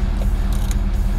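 The electric sunroof of an Audi SQ5 3.0 TDI quattro opening, with a steady motorized whir and faint mechanical creaks and clicks heard close up inside the cabin.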